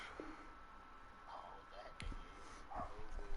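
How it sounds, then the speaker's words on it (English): Dogs outside bark and yip in a few short bursts, fairly faint and distant, under low background noise with some speech-like sounds. "Let me let these fucking dogs in."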